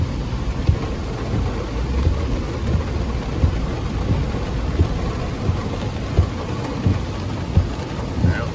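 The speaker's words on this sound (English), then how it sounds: "Still raining." Steady rain patters on a tent awning at a campsite near Lisbon, New Hampshire, a dense, continuous hiss with soft irregular drops close by and a low rumble underneath throughout.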